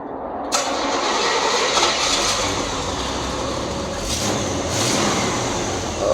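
A 1936 Ford truck engine cranks and catches, then runs steadily at close range with a rough, throaty exhaust note from its pipes, rising slightly in a couple of brief revs.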